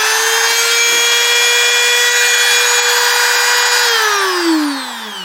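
A Ryobi RRT200 rotary tool with a drill bit fitted runs at a steady high-pitched whine, loud and close, then winds down in pitch near the end as it is switched off.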